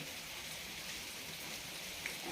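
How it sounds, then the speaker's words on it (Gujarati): Soft, steady rain falling continuously, an even hiss of light drops with no other sounds. "વરસાદ ચાલુ છે અવિરત ધીમો ધીમો"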